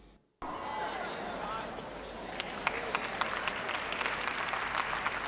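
Scattered applause from a small group of about 12 to 15 people at a sermon builds up after a moment of quiet, with irregular claps under a steady wash of voices.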